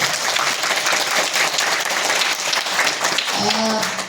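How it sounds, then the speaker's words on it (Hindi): A group of children claps loudly for themselves at a school event featuring a taekwondo demonstration, with vigorous sustained applause that fades as a voice begins speaking near the end. "बच्चों आप लोग अपने लिए खूब तेज ताली बजाएं, अपने लिए"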